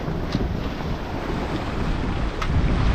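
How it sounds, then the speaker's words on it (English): A sailboat runs under full sail in following seas off Hopetown, with steady wind buffeting the microphone and waves rushing and sloshing against the hull, loud and continuous with no voices. "Under full sail."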